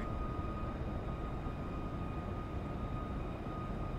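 A Boeing 737 takes off in the X-Plane 11 flight simulator: a steady, loud jet engine roar with a constant whine, unbroken and with no voices.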